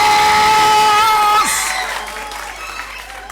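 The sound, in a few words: audience applause welcoming lycée Nguer la Renaissance students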